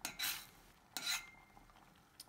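A utensil scrapes and stirs through a hot home-cooked dish after crumbled parsley goes in, two distinct close scraping strokes with a faint clink at the end, fairly quiet and without talk.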